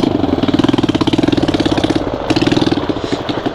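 A Hero XPulse 200 motorcycle engine runs loud and close, thumping in a fast, even idle rhythm with no other sound over it.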